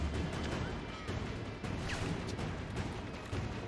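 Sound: gunfire in video game Assassin's Creed III

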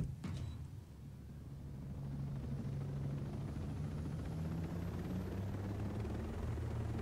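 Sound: helicopter in video game Ghost Recon Breakpoint

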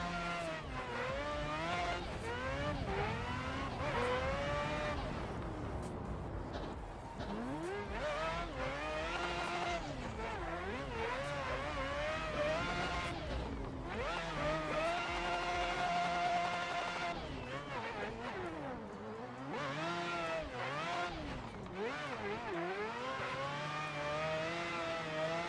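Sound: four-rotor rotary engine of a 300ZX race car

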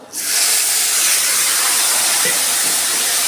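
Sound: water added to hot oil with turmeric, sizzling

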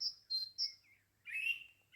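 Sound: birds singing in spring garden

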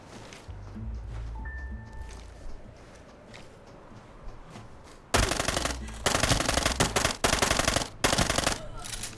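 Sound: machine gun fire in video game Arena Breakout

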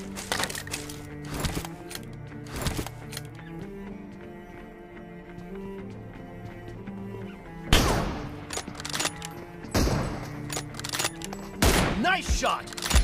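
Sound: gunfire in the video game PUBG

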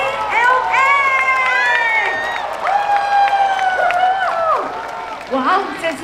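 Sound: crowd applause and cheering

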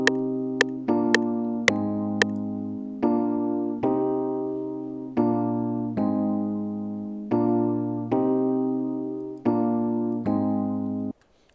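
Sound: music loop playing in FL Studio at 112 BPM

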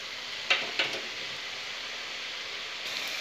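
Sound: frying dried peas in hot oil in a wok

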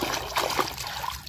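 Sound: water being poured to wash toy animals

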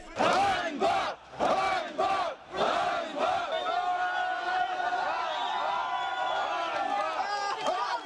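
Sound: crowd shouting "shame" at an official

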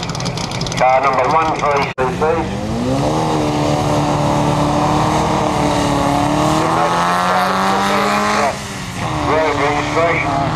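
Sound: race car driving past at a hillclimb

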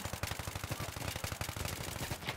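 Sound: A-91 rifle gunfire in Battlefield 3 video game

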